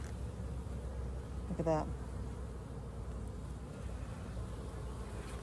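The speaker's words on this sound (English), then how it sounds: "It is chock full of bees." Honeybees hum in a steady, low, close drone from an opened hive during an early-spring inspection, while a person speaks briefly partway through.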